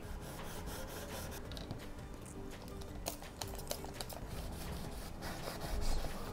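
Felt soaked in alcohol wipes over a wooden phone docking station piece, a soft, close rubbing with light scuffs and faint taps, quiet throughout.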